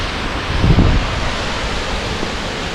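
Steady rushing roar of Tuolumne Falls on the Tuolumne River in Yosemite, with a brief low gust of wind buffeting the microphone early on, then the even, continuous wash of falling water.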